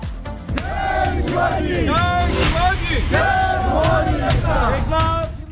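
A large street crowd in Maharashtra, India, celebrating a court ruling shouts slogans in loud unison, rising and falling in rhythmic chanted phrases that continue steadily throughout.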